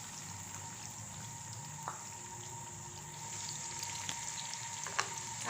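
Tomato paste sizzles in a pan while cooking mash ki dal, a steady soft hiss and crackle with occasional small pops, close and continuous, with no talking.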